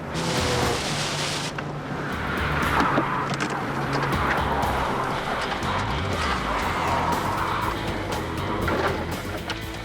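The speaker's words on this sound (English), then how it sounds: "That's what we call hydroplaning." A car hydroplaning at 120 mph across a wet, sluiced-down skid pad on tarmac, giving a steady loud roar of engine and spraying water that swells and rumbles throughout.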